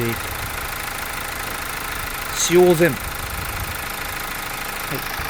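A Mazda CX-5 engine with 195,000 km, after carbon cleaning by walnut and baking soda blasting, idles steadily with a low rumbling hum throughout, as a voice speaks briefly over it.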